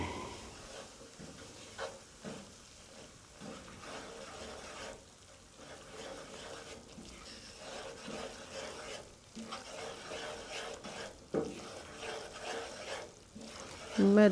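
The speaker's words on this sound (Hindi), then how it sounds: "मैदे को डालने के बाद मुसलसल चमचा हिलाते रहें ताकि मैदा जल ना जाए" Flour fries in a pan for date halwa while a spoon stirs it nonstop, giving a continuous close sizzle with repeated scraping and knocking strokes throughout.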